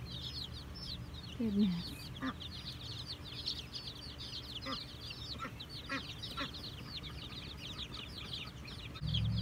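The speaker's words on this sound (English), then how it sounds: "You'll notice in this clip in the background there's actually other chicks roaming around." Soft, faint clucking from a mother hen with small chicks peeping around her outdoors in a garden, with quick chirps scattered throughout and a brief voice speaking.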